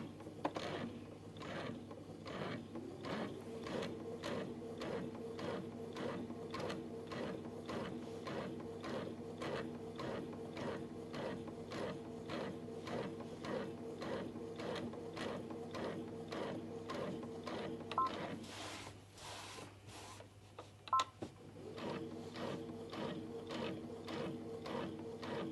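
A Brother sewing machine fitted with a dual feed kit stitches a seam, giving a steady, rapid mechanical clatter close by that briefly pauses near the end, then picks back up.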